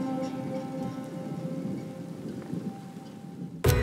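Steady rain falls hard on surfaces during a thunderstorm in the Quebec backcountry, a dense continuous hiss with faint rumbling beneath and a sudden loud crack near the end.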